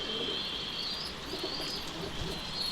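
Kept pigeons sheltering indoors from rain coo softly amid a steady wash of background noise, with a few faint chirps mixed in.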